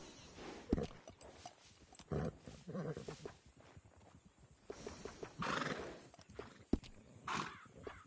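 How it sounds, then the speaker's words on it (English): A horse in the Red Dead Redemption video game whinnies loudly several times while its hooves clip-clop at a walking pace, close and clear, with no talking. "You need a break from that horse."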